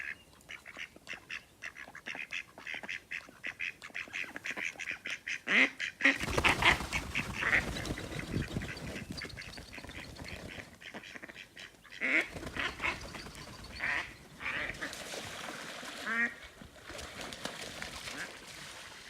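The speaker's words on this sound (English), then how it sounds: "Just witnessed a bit of a duck fight there." Ducks fight at Tyresta National Park, with loud bursts of harsh quacking and squabbling in several flurries over outdoor ambience, close by and uneven in rhythm.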